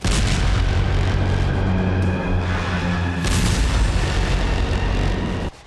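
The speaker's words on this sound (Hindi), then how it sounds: "ये Putin army, most powerful nation का बारूदी टशन है" Russian army artillery fire and explosions during a war drill, a dense, continuous roar of heavy booms and blasts that stays loud and close throughout.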